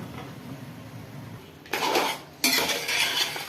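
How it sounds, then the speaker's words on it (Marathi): Cooked rice for chicken biryani is tipped from a small strainer into a kadai, giving two close rushing, rattling bursts with a metallic clatter, after a quiet kitchen hum. "कढईमध्ये टाकते तांदूळ"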